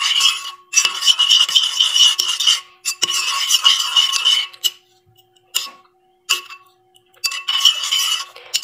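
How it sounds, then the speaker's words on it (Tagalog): A utensil mixes macaroni salad with lemon in a bowl. Bursts of quick metallic clinking and scraping come close by, separated by short silent pauses. "So, i-mix lang natin."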